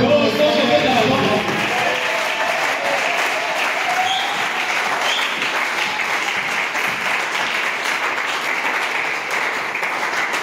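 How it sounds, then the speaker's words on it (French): Church congregation applauding loudly and continuously, a dense wash of many hands clapping alongside cheering voices that begins with a louder burst and holds steady throughout. "Est-ce qu'on peut acclamer?"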